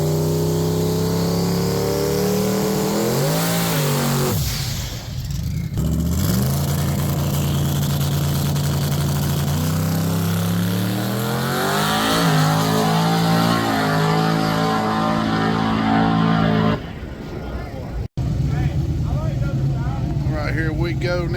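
A turbocharged drag race car at the track runs loud and sustained through the whole clip, its engine rising and falling in pitch as it revs, with crowd or announcer noise and voices mixed underneath.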